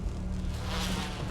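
Bees buzz in the 2002 Resident Evil game as a steady, low droning hum that continues throughout at moderate loudness, layered with other game sound.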